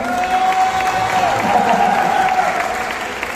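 A crowd at a tribute ceremony claps loudly and continuously for the host's daughter, with scattered cheers, dense hand claps filling the whole stretch before tapering slightly at the end.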